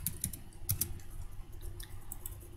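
Light clicks of a computer keyboard being typed on in short, uneven bursts, fairly quiet and close, with no talking.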